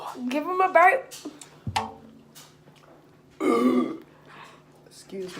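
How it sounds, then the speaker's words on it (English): A loud burp rings out near the middle, longer and throatier than the short vocal sounds and a brief clatter around it, during a spaghetti meal. "Give him a burp."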